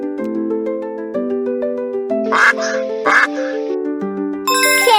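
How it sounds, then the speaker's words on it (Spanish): Duck quacking in a children's animal-sounds lesson, two sharp nasal quacks over a steady musical backing of bell-like tones, with a chiming flourish at the end. "Los patos hacen cuac, cuac."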